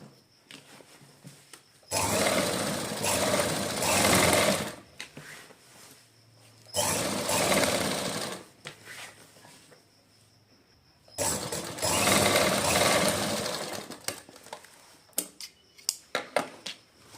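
Sewing machine stitching a line along the edge of fabric piping, three loud close bursts of rapid mechanical whirring separated by quiet pauses and a few light clicks.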